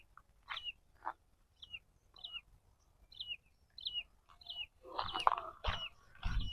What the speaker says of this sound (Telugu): రకరకాల పక్షులు ఉన్నాయి ఇక్కడ. సౌండ్ వినిపిస్తుందా మీకు?